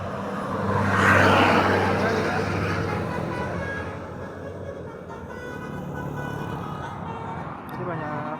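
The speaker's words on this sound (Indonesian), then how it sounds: "jadi banyak banget yang lewat sini termasuk bus-bus wisata" Cars and tour buses pass along a busy tourist route near Tawangmangu on a Jogja–Malang motorcycle tour, a loud broad traffic rush peaking early, with a brief horn toot, then steady road noise continuing beneath speech.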